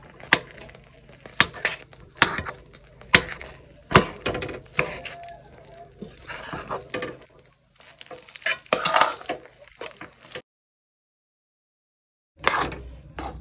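Khuwa (milk solids) stirred in a pan, heard as repeated scraping and knocking strokes with soft sizzling between, close by, with a brief silence near the end before one more stroke.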